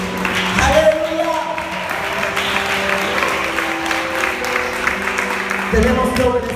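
A church congregation claps hands together during a Spanish-language service, with a steady wash of applause under a voice that speaks and calls out over it.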